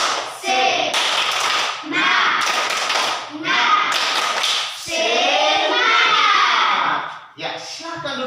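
A class of children performs the tepuk semangat, a rhythmic clapping chant. Bursts of patterned hand claps and taps come in repeated phrases with short pauses, mixed with their chanting voices.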